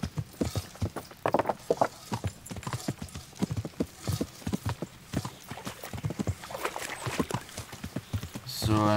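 Horse hooves clip-clop in steady, fairly close repeating beats while riding in the medieval game Kingdom Come: Deliverance, continuing throughout with a brief whinny-like sound near the end.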